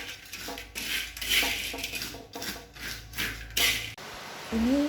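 A spice mixture is stirred by hand in a pot, giving repeated scraping and clanking strokes with brief pauses, close and moderately loud.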